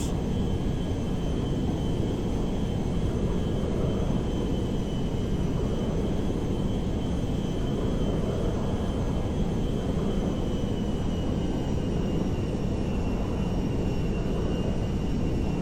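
A large firefighting aircraft drones overhead in a Grand Theft Auto V fire department mod, its engine a steady loud rumble with a faint sustained whine above, unchanging across the stretch with no talk.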